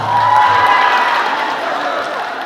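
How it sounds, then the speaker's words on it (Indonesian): Indoor school motivation event audience applauding and cheering a winner, a dense sustained wash of clapping and crowd noise at steady loudness, with a brief tonal squeal early on. "Tepuk tangan untuk pemenangnya"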